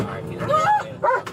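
A police K9 dog barks and yips excitedly in short bursts, close and loud, with radio chatter or voices mixed in during a body cam encounter.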